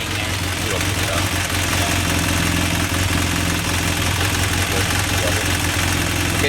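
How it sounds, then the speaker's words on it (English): A BMW F800 motorcycle engine idles steadily with a rapid ticking from a deflated cam chain tensioner, loud and close, running continuously throughout with no talk. "what a deflated cam chain tensioner will normally sound like."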